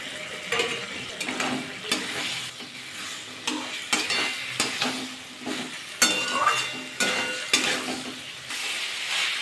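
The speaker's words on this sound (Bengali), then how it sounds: "আর কপিটা আলুটা ভাজা করে রেখেছিলাম সেটা দিয়ে দেবো।" Cauliflower and potato are stir-fried in a pan with poppy seed paste: repeated spatula strokes scrape and clatter against the pan over a continuous close sizzle, coming in uneven bursts with no talking.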